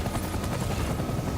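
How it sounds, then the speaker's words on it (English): A helicopter's rotor chops steadily at close range in the video game Death Stranding, with no talk over it. "was I supposed to get in the chopper?"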